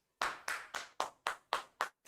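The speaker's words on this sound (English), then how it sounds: "Let me put a clap for you." Eight sharp, evenly spaced hand claps for a student's correct answer in a chemistry lesson, close and crisp, a steady rhythm of about four per second with nothing else heard.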